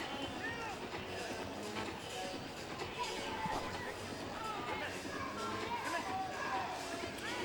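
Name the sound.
crowd cheering in the stands at the 2010 CrossFit Games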